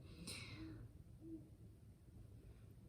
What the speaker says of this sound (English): That owl just called.